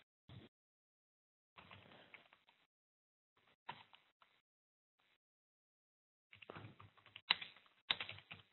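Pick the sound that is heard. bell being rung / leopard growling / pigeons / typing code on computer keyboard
typing code on computer keyboard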